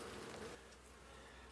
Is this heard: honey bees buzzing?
yes